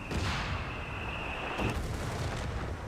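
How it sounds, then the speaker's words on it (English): Mortar shell impact in Company of Heroes 3, a real-time strategy game: a loud, close boom with a ringing high tail, followed by a second burst and rumbling battle noise, with no voices. "But the mortar hits his own unit."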